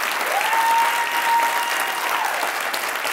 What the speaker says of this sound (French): On applaudit Marc-Antoine qui fait une recherche incroyable, pour vrai, là.